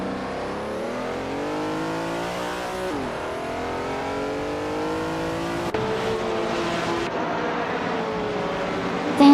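A 1967 Ferrari 330 P4 racing car engine in a racing video game revs steadily and loudly, pitch climbing through gear changes with brief drops between shifts, continuous and close with no talk.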